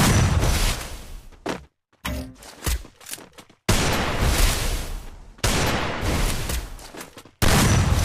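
Gunfire in the Free Fire battle game during a one-on-one match. Loud bursts of shots come in dense, sustained volleys, broken by sudden silences and then resuming abruptly.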